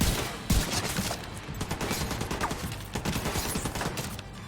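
In The Division 2, close, rapid gunfire crackles for several seconds as steady bursts of shots, opening with a sharp loud report and carrying on as a dense, even stream of fire.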